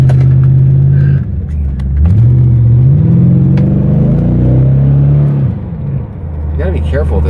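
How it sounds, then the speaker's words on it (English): A C4 Corvette with a MagnaFlow exhaust revs and accelerates close by, its deep rumbling note climbing and falling through the gears, with a loud steady engine drone throughout and a brief easing of throttle near the end. "You gotta be careful with this MagnaFlow exhaust too."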